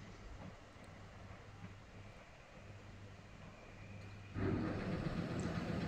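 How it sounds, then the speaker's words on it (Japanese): Air compressor of a Soviet-style electric locomotive at Almaty station in Kazakhstan, a steady low mechanical drone with a constant tonal hum that suddenly grows louder and rougher near the end. "コンプレッサーの音が響いております。"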